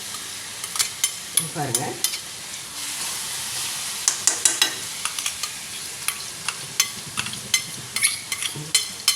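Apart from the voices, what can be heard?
garlic sautéing and sizzling in a pan while stirred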